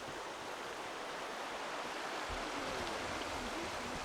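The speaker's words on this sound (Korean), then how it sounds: "숲속에 흐르는 개울물" A forest stream near Angkor in Cambodia, running over a carved sandstone bed, gives off a steady, even rushing of water, moderately loud and unbroken, with no voices.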